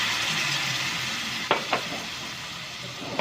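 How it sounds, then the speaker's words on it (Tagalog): Chicken pieces sizzling in a pan as soy sauce goes in for Filipino adobo, a steady hiss of frying with a couple of sharp clinks of a utensil partway through. "At ilagay na natin ang toyo kapag golden brown na ang chicken natin."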